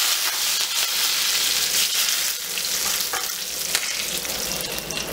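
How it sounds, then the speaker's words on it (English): Curry leaves crackle and sizzle in hot oil alongside browned urad dal for a South Indian tomato thokku, a steady close, loud frying hiss with fine popping throughout. "I'm going to add in the curry leaves"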